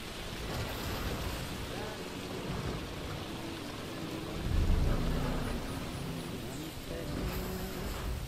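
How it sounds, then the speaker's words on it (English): Steady rain with rolling thunder in the game Death Stranding, a dense wash of downpour throughout with a deeper thunder swell near the middle, while a voice speaks over it at times. "Let it stop raining, please."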